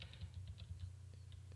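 Computer keyboard keys pressed in a quick, irregular run of light clicks, faint and close, with no talking, during an After Effects compositing lesson on zooming in and out.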